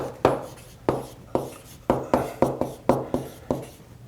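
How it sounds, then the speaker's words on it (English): A pen or marker strikes and scrapes a writing surface while the word no is written out by hand for a math lesson, a steady series of about ten crisp taps, close and clear with no talk. "Let me first write down no."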